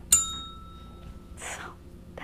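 A small bell rings once at the start of an indoor gouache painting lesson, a bright ding with a long thin ringing tail that fades over about a second, followed by soft breathy sounds.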